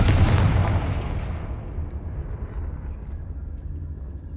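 A Confringo spell blast in Hogwarts Legacy goes off as one heavy, loud explosion with deep booming low end that decays slowly into a rumbling tail.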